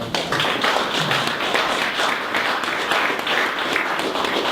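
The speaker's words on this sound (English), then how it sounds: "let's give another round of applause to Jeff." An audience claps steadily after a health care marketing talk, a dense wash of applause that holds at an even level throughout without voices.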